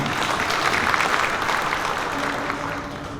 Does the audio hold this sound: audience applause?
yes